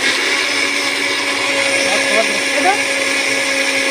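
A covered blender whirs loud and steady, churning homemade butter. The motor drone runs unbroken for the whole stretch, with a brief spoken word over it.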